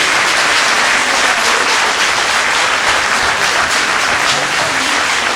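Loud, continuous applause from a festival audience fills the whole stretch, dense and steady with no voices breaking through.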